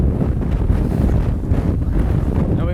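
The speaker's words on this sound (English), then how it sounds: "See the sails flapping." Sails of a sailboat crossing the Atlantic flap in strong sea wind, a steady loud rushing buffet with low rumbling gusts and no pauses throughout.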